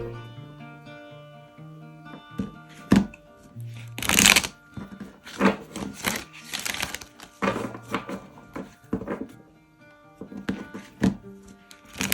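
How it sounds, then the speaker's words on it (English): Tarot cards are shuffled by hand in several quick riffling bursts, separated by soft taps and pauses, close and fairly quiet. "So let's shuffle the deck and just see how it looks on the table."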